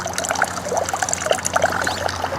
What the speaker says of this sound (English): The frog is spitting out water.